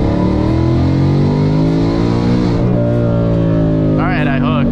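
A Lund-tuned car on Michelin Pilot Sport 4S tires launches hard and accelerates, its engine note climbing steadily and loud and close, with traffic noise around it.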